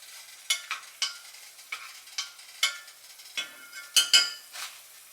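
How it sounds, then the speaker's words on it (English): A spoon stirs broth in a pot for vegan ribs, making a series of soft scraping swishes and light metallic clinks in a quiet kitchen, with no voices. "give it a quick little stirry stir"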